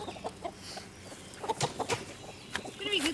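Chickens on a farm, just moved onto fresh grass, give several soft, scattered clucks at close to moderate range over outdoor background noise.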